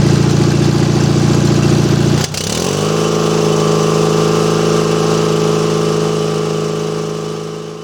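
Riding mower engine with a dual circuit charging system running at wide open throttle, a loud, steady close drone that shifts pitch about two seconds in and then holds even to the end.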